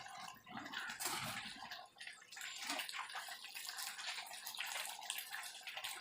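A pot of meat curry (kuzhambu) at a rolling boil gives a steady, dense bubbling and watery sloshing throughout, close and moderately loud, with no voices.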